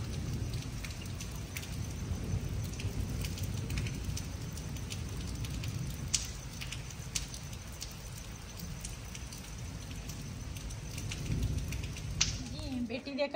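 Heavy rain falls steadily, close and continuous, with sharp drip and splash ticks throughout and a deep rumble of thunder underneath. A voice speaks faintly over it.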